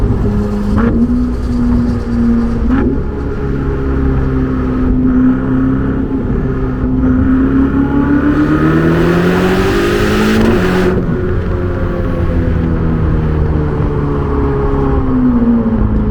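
A Ferrari 488 GTB engine revs hard and climbs in pitch, then drops back, with turbo whistle and whoosh over a constant loud, close engine roar.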